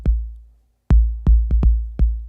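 Processed Roland 606 drum machine kick in an Ableton production: five tight, punchy low thumps with sharp clicky attacks, loud and dry, heard alone in a short rhythmic pattern.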